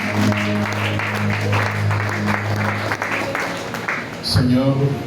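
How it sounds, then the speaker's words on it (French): A church congregation applauds in praise during a French-language prayer gathering, a broad steady wash of clapping running under a voice that keeps speaking throughout. "Au nom de Jésus, nous acclamons le Seigneur"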